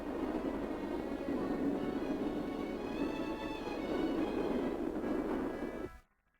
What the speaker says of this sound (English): The train arrives at Solihull Station.